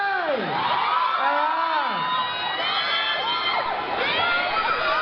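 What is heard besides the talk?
crowd shouting and cheering at fan day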